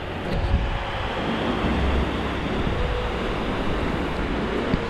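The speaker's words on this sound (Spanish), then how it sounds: "Aparte de la turbulencia del agua" Turbulent water churning and swirling into vortices in a rocky gorge, a dense steady rushing roar heard alone with no voices throughout.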